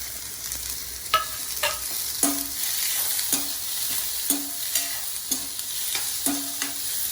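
Two large onions fry in a pan for kadalai curry, sizzling steadily up close while a spoon scrapes and stirs in regular strokes, every second or so, with no talking.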